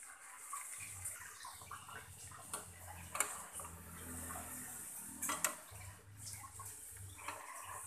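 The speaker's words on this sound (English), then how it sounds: "first we will try to fry the ginger" Ginger deep frying in plenty of oil for a curry-leaf gravy, a soft steady sizzle and crackle with scattered small pops and bubbling ticks throughout, fairly quiet with no voices.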